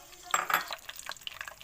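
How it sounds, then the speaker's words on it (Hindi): Nuts such as walnuts, pistachios, cashews and almonds stirred in a pan of melted ghee for a panjiri, with brief clinks and scrapes of a spoon against the pan over a soft frying hiss. "अब मैं इसके अंदर नट्स शामिल करूँगी और 1 से 2 मिनट तक इन्हें फ्राई करूँगी"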